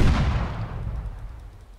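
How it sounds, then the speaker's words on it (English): Cannon firing in the video game The Last Leviathan, a single heavy boom with a deep low rumble that decays over under two seconds, alone with no talk. "Let's take control of one of these cannons."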